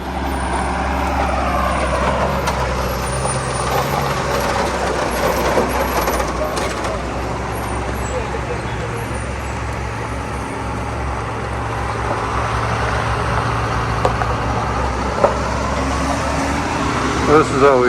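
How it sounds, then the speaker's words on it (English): Idling trucks and buses queued in traffic at a single-lane bridge in the Nepal Himalayas, a loud steady low engine rumble with occasional air-brake hisses and clanks, talking over it. "This is always sitting traffic here in Nepal, waiting for a single lane bridge to give us space to go through."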